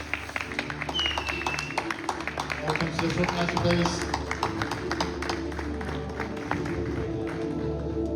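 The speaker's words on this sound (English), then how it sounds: "Round of applause, folks." Audience clapping and cheering fill the hall at a PCA Naturals bodybuilding competition after the overall winner is announced. Applause runs steadily throughout, with an announcer speaking over it.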